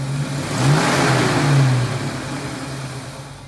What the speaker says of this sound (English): This Cougar is equipped with a 302 cubic inch V8 engine. It runs very smoothly and powerfully